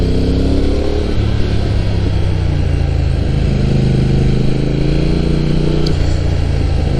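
A motorcycle ridden on the Okutama Shuyu Road (Route 206) in Japan drones loudly and close up, its engine note rising and settling through steady revs, with a brief shift near the end.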